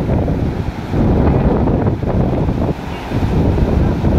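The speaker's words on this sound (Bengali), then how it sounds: "হাওয়া, তার সাথে ঢেউয়ের আওয়াজ।" Steady wind buffets the microphone while ocean waves wash and surge underneath, loud and continuous.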